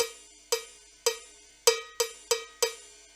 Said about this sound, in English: High tone cowbell.